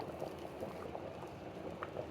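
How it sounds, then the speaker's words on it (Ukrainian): A pot of chicken pilaf boils steadily, a dense continuous bubbling and hiss with no talking. "Все кипить, сьома година у мене все кипить."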